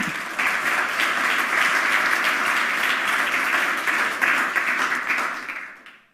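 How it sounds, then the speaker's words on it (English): At a hacker congress lecture, an audience claps steadily for speaker Angela Crow. The applause holds dense and even for several seconds, then fades away at the end. "Please give her a round of applause."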